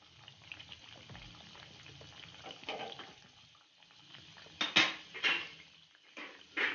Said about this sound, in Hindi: कचौरियों को दोनों तरफ गोल्डन ब्राउन कलर आने तक फ्राई करूंगी।